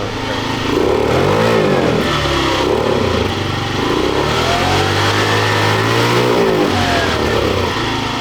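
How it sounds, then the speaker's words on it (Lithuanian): A 50cc moped engine revved hard with the throttle, close and loud, rising and falling in several sustained surges over a continuous buzzing drone. "Per daug gazo duodi, jinai ges pradeda."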